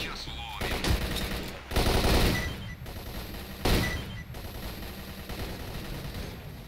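Assault rifle gunfire in the S.T.A.L.K.E.R. Clear Sky game, loud bursts of rapid automatic shots coming in several volleys with short gaps, heavy booming peaks near the start and middle.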